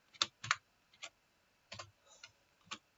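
Keys tapped on a computer keyboard while entering a line of Visual Basic code, a handful of sharp, separate clicks in an uneven rhythm, quiet and close with near silence between strokes.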